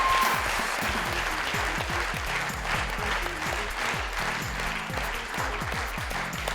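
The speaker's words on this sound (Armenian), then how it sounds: "ծափարություններ Ժաննային" A studio audience at a Minute To Win It game show applauds contestant Zhanna, dense steady clapping from many hands that holds at an even level throughout.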